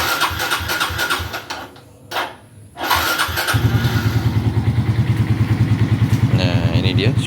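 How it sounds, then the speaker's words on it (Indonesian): A 2013 Suzuki Shooter, a small fuel-injected motorcycle engine whose running is no longer as smooth as it once was, cranks and catches, then settles into a close, loud, steady rhythmic idle. "Nah, ini dia suara mesinnya ya."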